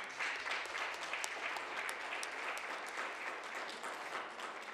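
Congregation at a morning church service breaking into sustained applause and cheering, a dense, even roar of many hands clapping with a few voices mixed in, filling the room from start to end.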